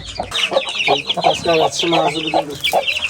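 A rooster of a Korean fighting breed clucks in a run of close, loud, rhythmic calls, with talk around it.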